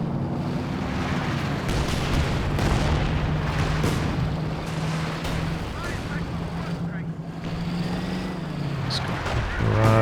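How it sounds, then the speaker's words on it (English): An artillery barrage in Company of Heroes 2 rumbles with repeated low booms and blasts over a continuous battle din, while a commentator talks over it throughout. "Barrage doing a little bit of damage."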